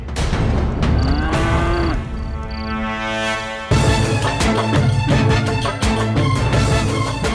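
Cattle lowing amid a dramatic orchestral score, with several moos and bull calls that rise and fall under strong swelling music and percussion, the animals moderately close.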